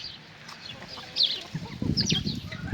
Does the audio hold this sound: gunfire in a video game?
no